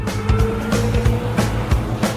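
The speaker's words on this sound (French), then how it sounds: "Le camion de sable est arrivé." A sand truck arrives with a close, steady low motor hum, broken by light rattling clicks and knocks at irregular intervals.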